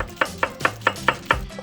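Six evenly spaced knife chops cut through onion on a cutting board, each a sharp close thud in a steady rhythm, with no talking.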